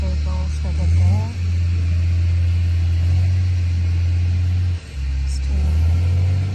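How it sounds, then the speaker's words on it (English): Goods trucks travel a rough mountain road on the Ukhrul–Tadubi route in monsoon season. A loud, constant low engine drone and rumble runs throughout, dipping briefly twice, with faint voices in the background. "These are the trucks that carry goods for Ukhrul and Nepal as well."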